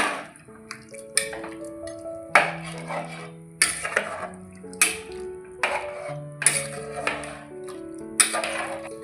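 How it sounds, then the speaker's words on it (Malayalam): Chicken stew stirred in a pressure cooker pot, with repeated metallic clinks and scrapes of a spoon against the pot in an irregular rhythm, close and fairly loud, with no talk. "ഇളക്കി യോജിപ്പിക്കാം."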